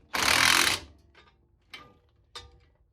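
Impact wrench on a suspension bolt of a 1989 Mustang GT: one loud sustained burst of about two-thirds of a second, then two short, fainter zaps with quiet gaps.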